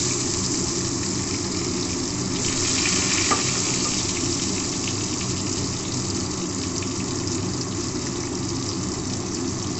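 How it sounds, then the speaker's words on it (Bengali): Eggplant pieces fry in hot oil, giving a steady, even sizzle that carries on close and unbroken, with no voices over it. "তেলটা গরম হয়ে গেছে, আমি বেগুনগুলো দিয়ে দিলাম।"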